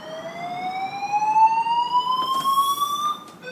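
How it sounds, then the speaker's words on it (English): An apartment building fire alarm in Toronto sounds a loud electronic tone that sweeps steadily upward in pitch for about three seconds, then drops and starts again. "Again, another fire alarm."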